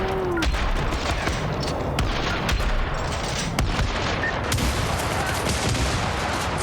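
Dense, continuous gunfire from the video game Syndicate, rapid overlapping shots and bursts with booming impacts, loud and sustained throughout without speech.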